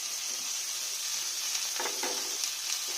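Vegetables and chopped carrot sizzle and fry in a hot wok for a chow mein soup, a steady close crackle with a few brief stirring scrapes, no talking.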